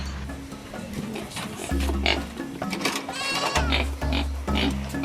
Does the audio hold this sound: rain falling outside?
no